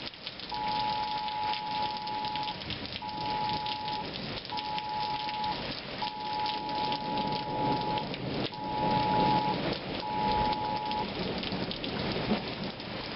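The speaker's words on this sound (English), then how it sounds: "it is a cold, yucky rain coming outside" Steady cold rain falls outside, a constant hiss with faint low rumbles, while a telephone's repeated electronic beeping flash flood warning sounds in several short bursts over it.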